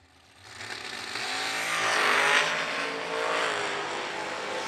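A dragster launches down the drag strip at a racing event, its engine roar swelling quickly into a loud, sustained rasping howl that holds and slowly eases as it pulls away.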